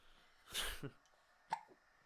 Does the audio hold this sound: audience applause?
no